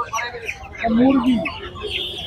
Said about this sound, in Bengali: অনেক টাইগার মুরগির বাচ্চা।